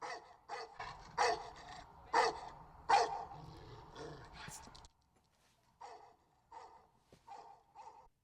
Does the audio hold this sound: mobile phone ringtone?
no